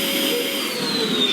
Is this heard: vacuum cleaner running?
yes